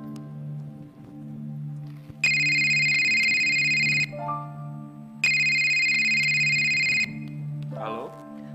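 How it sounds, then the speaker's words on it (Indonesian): Telephone ringback tone on an outgoing call: two long electronic rings separated by a pause, loud and close, over a low steady hum. "gue coba telepon Anton deh"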